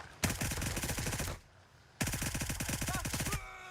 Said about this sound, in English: Sometimes the hipfire mag dump mode does not work out.